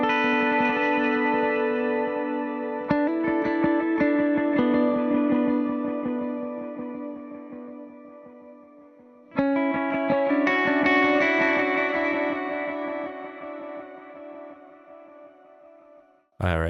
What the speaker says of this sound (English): I'll just strum something without reverb